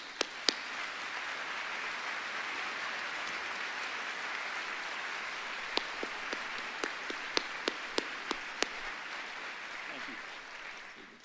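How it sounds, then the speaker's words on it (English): A large audience at the George Mason University Antonin Scalia Law School spring 2024 commencement applauds steadily and at a distance, with a few sharp nearby claps standing out from the wash. "Platform party, please stand and let's do another round of applause."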